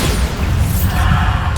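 A Bombarda explosion spell cast in Hogwarts Legacy booms continuously and loudly, its dense rumble and crashing burst running unbroken with a whooshing tail toward the end.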